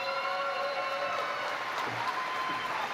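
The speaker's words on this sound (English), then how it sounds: "Please give them a round of applause" Audience at a Grand Canyon University 2023 welcome session and parent orientation giving a round of applause, a steady wash of many hands clapping at moderate volume throughout.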